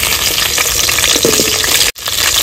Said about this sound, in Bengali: তেল গরম হয়ে গেছে, কেটে রাখা আলুর টুকরোগুলো দিয়ে দেবো।